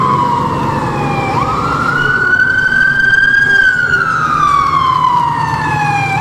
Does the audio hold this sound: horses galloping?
no